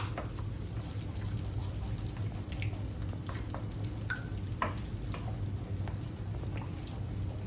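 Beaten egg sizzles and spatters steadily in hot oil in a pan, with occasional stirring scrapes over a continuous frying hiss, close and fairly quiet.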